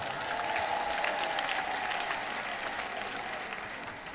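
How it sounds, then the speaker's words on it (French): A church congregation applauds the Lord with sustained, dense clapping from a crowd in a hall, fading slightly toward the end. "On acclame le Seigneur."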